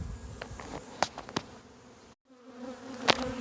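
Angry Russian honey bees buzz around an opened hive, a dense steady drone with individual bees whining close past, interrupted by a brief silent gap.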